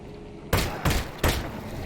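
Three loud, close gunshots in Half-Life: Alyx, fired in quick succession about a third of a second apart, each a sharp broadband blast with a short tail.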